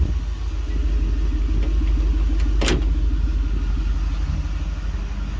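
Toyota Land Cruiser FZJ45 truck on an 80-series chassis with a 4.7L V8, idling with a loud, steady low rumble and a brief rev partway through.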